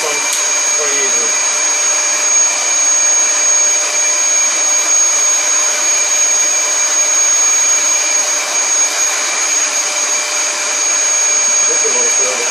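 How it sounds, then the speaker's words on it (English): A Dyson vacuum with a grooming attachment runs over a golden retriever's coat, producing a loud, steady, high-pitched motor whine that holds constant throughout, close to the listener. "Just an attachment for a Dyson."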